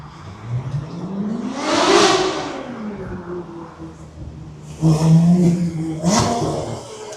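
A Porsche revs on Hollywood Boulevard, its engine note rising to a loud whine, falling away, then surging again in two close, throaty bursts over street ambience.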